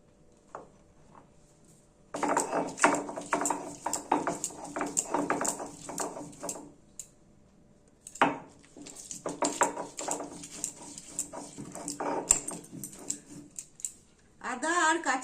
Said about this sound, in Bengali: এবার আদা আর কাঁচা লঙ্কাটা বেটে নেবো